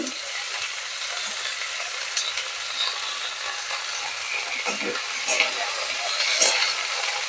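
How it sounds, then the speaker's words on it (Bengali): Shredded cabbage, cauliflower and peas fry in a pan with a steady, close crackling hiss, broken by a few sharper clinks as they are stirred. "সব একে একে দিয়ে এগুলোকে একটু ভালো করে ভেজে নেব"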